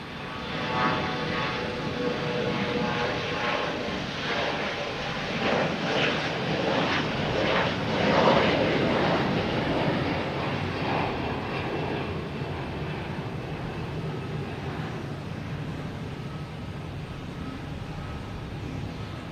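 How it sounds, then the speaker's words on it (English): An American Airlines Embraer E175 jet takes off at Boston Logan Airport, a loud, sustained engine roar heard from a distance that swells in the middle and slowly eases, with no voices. "Next taking off is American Airlines heading to Philadelphia."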